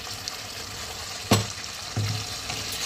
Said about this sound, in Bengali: মাংসটা কষতে কষতে তেল এবার ছাড়তে লেগেছে